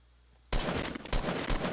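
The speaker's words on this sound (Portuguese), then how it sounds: "Deu um tiro." Gunfire erupts abruptly in a video game after a brief quiet moment, a loud, dense burst of rapid shots that carries on to the end.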